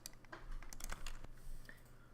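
A computer keyboard key is pressed rapidly over and over, giving a quick, faint run of clicky taps at close range.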